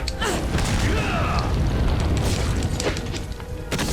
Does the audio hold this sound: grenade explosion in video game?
yes